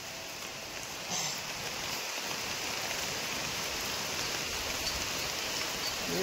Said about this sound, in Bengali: দেখো ভাই পুকুরে বৃষ্টি, মুষলধারে বৃষ্টি হচ্ছে